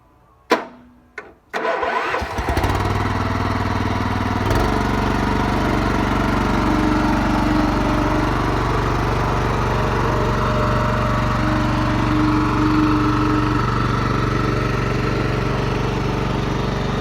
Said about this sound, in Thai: เครื่องยนต์ฮอนด้า เก้าแรง OHV รุ่นใหม่อ้าวติดเครื่องให้ดูครับ